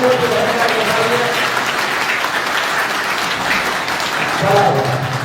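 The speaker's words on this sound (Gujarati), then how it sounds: "જોરદાર તાળીઓથી ભરતભાઈને વધાવીએ." A crowd at a political rally in Thangadh, Gujarat, claps in a dense, even burst of applause that holds steady throughout, with a voice faintly audible at the start and again near the end.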